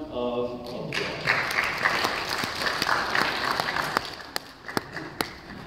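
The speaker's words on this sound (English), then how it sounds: "Give Daniel a big round of applause." Congregation applause during a church sermon after a small book giveaway: clapping swells after the first second, then thins into a few scattered individual claps near the end, with some voices mixed in.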